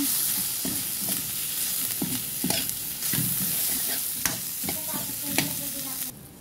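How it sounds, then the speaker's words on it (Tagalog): A spoon stirs oatmeal arroz caldo in a pot, scraping in steady repeated strokes under a constant close sizzle, with no talking. "Haluin lang natin."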